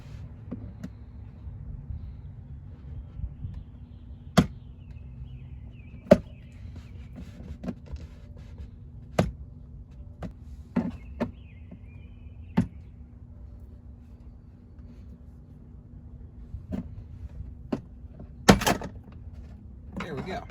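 A screwdriver prying interior trim panels inside a Colorado ZR2 truck, giving sharp, isolated clicks and pops of plastic clips, spaced irregularly over a steady low hum, with a louder cluster near the end.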